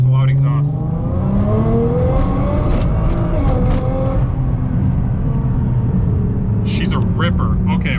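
Nissan R35 GTR exhaust heard from a quiet cabin, a loud continuous rumble with rising and falling engine tones as the car accelerates and shifts, steady throughout.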